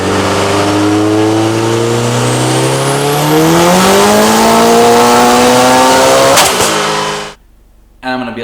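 A car engine revving hard on a dyno, a loud steady roar climbing smoothly in pitch for several seconds before cutting off abruptly, with a short burst returning at the end.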